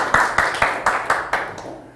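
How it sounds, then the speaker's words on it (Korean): Lecture audience clapping in a hall, heard as about eight evenly spaced, sharp claps in a steady rhythm at moderate volume, with no talking over them. "박수라도 많이 쳐주십시오."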